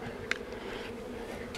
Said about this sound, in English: we can sit back and enjoy the bees in our Apimaye colonies